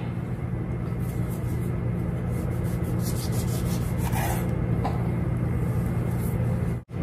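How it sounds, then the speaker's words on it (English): A lemon rubbed against a grater for zest while making a breakfast Danish, heard as a steady, close scraping rasp that continues throughout under a constant noisy background, with no talking. "I am just going to get me a little zest so that I can make sure I have the flavor I want"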